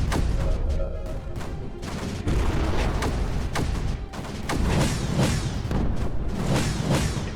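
Mortars firing repeatedly in the video game Creeper World 4, a rapid irregular barrage of sharp thumps and whooshing shots layered over a constant low rumble, loud and close with no talking.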